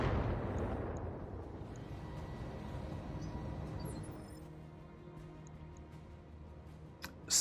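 Battletech Longbow mech's missile salvo slamming into a target, a dense rumbling cluster of blasts that fades over several seconds, followed by scattered small clicks and one sharp final thud.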